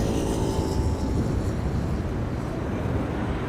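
A KLM Embraer 190 arriving at Amsterdam Schiphol in storm-force high winds: a steady, broad low roar of jet engines mixed with wind buffeting the microphone, continuous and fairly loud throughout.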